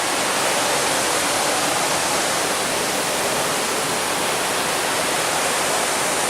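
Loud rushing water at an abandoned saw mill roars in a dense, constant wash that fills the whole clip with no breaks and no other sounds.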